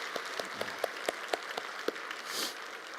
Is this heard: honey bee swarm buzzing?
no